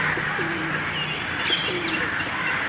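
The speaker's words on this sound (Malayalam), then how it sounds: "ഇവിടെ നിറച്ച് പ്രാവുകളൊക്കെ ഉണ്ട്." Pigeons coo nearby in a few soft, low repeated calls over faint outdoor background noise.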